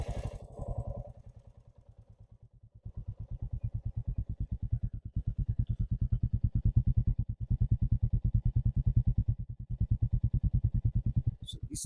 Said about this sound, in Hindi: इस तरीके से कुछ आप एग्जॉस्ट साउंड सुन सकते हैं।